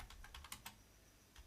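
Quick light keystrokes clatter on a computer keyboard while a code comment is typed: a short burst of soft clicks, close and faint, then a pause and one more tap.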